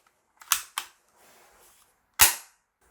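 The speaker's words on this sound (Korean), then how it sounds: "방아쇠를 당기면 탄을 약실에 밀어넣고 격발합니다" Snapping cap bangs from an MGC Ingram M11 model gun, two quick close cracks followed by a faint mechanical rattle and then one more loud crack, crisp and alone in a quiet room.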